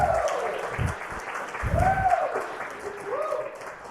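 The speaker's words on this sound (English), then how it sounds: "Let's give Alana a round of applause." A live audience at a justice-themed talk show applauds a former student, steady clapping heard under a voice that speaks over it throughout.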